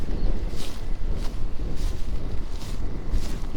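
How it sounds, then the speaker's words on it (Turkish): Steady wind over an open field in Gönen rumbles and buffets the microphone with a low, continuous roar, no voices present. "Biraz da rüzgar var bugün. Çok esen bir yer burası."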